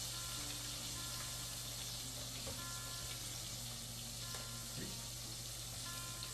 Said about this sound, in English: Just let them fry, do their thing.